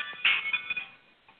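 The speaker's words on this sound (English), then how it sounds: "Somebody got a cell phone or something." A mobile phone rings in the audience of a lecture hall, a short bright electronic tone that sounds once and fades out against a quiet room.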